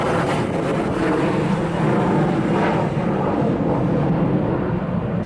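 Outdoors at Teterboro airport, wind roars steadily into the microphone as a dense, broadband rush that stays loud and constant, with no voices.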